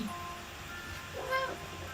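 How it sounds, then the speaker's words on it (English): A cat meows faintly a couple of times, briefly, midway through, half buried under a steady hiss of background noise, with no talking. "Oh my god, it's a kitty!"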